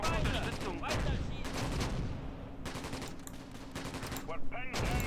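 Rapid bursts of gunfire from the WWII tactics game Close Combat Gateway to Caen, a Normandy bocage multiplayer battle, crackling steadily with overlapping shots and short pauses under some background noise.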